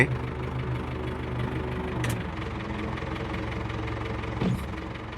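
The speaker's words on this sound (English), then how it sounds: "So I'm gonna fire up the backhoe now and try and see if it leaks." A John Deere 680G backhoe diesel engine runs at a steady idle with a low, even knocking chug and faint clanks, recorded close on an off-grid farm.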